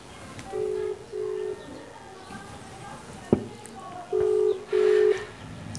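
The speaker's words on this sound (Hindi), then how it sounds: "रिंग्स आ रही है, रिसीव नहीं कर रहा है।" A WhatsApp audio call ringing out on a phone: repeated paired electronic ring tones, two near the start and two near the end, with a sharp click between them and faint background sound.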